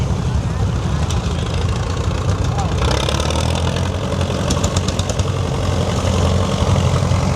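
Several old tractors idle together at a vintage equipment show, a steady low rumbling drone of engines running throughout with a busy, continuous texture.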